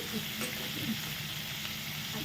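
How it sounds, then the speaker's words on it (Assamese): Star fruit (kordoi) frying in a pan with spices over lowered heat gives a steady, close sizzle with faint stirring scrapes and no talk. "গেছটো কমাই কৰ্দৈখিনি অলপ সময়লৈ ভাজিব লাগিব"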